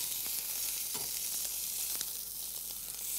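A fried egg sizzles in a hot pan, a steady bright crackling hiss with small pops, continuous and close with no talking.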